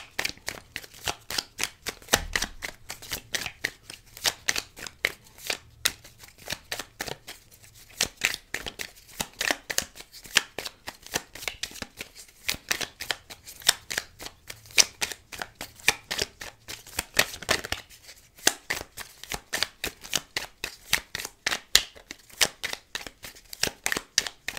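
Tarot cards are shuffled continuously by hand, a steady run of soft riffling flutters close to the ear with brief pauses, alone without talk.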